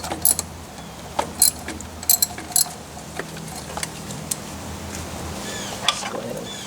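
A ratchet with a 10mm socket loosening lightly tightened bolts on a Honda Accord's thermostat housing: sparse close metallic clicks and clinks over a low steady background hum, no talk.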